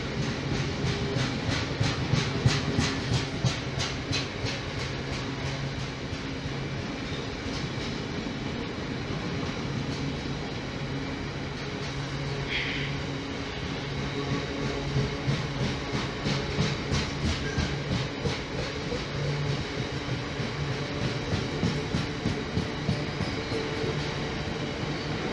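A train running through Lincoln Central station, a long continuous rumble and rattle of rail cars with faint clicking, steady and fairly close throughout.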